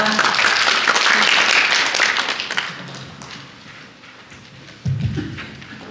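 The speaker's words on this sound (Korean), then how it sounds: "다시 한번 큰 박수 부탁드립니다." An audience at a Korean small-business support briefing claps loudly at first, then the applause fades away, followed by a brief thump near the end.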